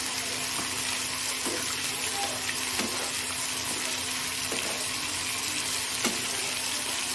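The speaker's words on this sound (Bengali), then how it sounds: "একটু জল দিয়ে দিচ্ছি, ভালো করে সেদ্ধ হবে।" Food sizzles steadily in a frying pan after a splash of water is added, a constant hissing spatter with a few soft knocks at regular intervals, close and moderately loud with no voices.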